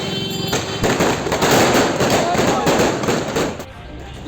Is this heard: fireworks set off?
yes